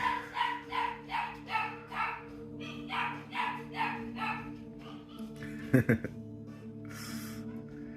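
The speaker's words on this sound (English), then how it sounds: "you hear the puppy crying" A puppy whines and cries in a steady series of high, plaintive yelps over a low constant hum, followed by a few sharper cries.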